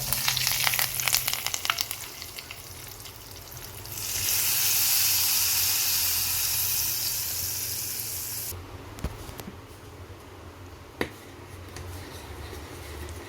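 A hot tempering of mustard seeds, asafoetida and curry leaves poured into a pot of mango kuzhambu sets off a loud, sudden hissing sizzle that holds for several seconds, then cuts off into quieter bubbling and occasional clinks.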